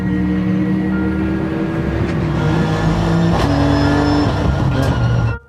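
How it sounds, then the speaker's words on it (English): A 2014 Nissan GT-R Nismo GT3 race car engine runs loud and close with a steady, buzzing drone that shifts pitch slightly a few times, then cuts off abruptly at the end. "The GTR is a big, muscular race car with a large presence when battling on the racetrack with other cars."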